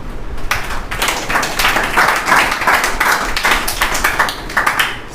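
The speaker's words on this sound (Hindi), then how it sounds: "इसलिए एक बार आपके लिए तालियां।" Loud, close applause from an audience at a motivational speech, with energetic clapping that swells and surges in uneven bursts from start to finish.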